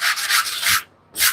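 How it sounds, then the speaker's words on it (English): Wood being sanded by hand in steady back-and-forth rasping strokes, loud and close, with a short pause before one more stroke. "best sanding job of my career right there"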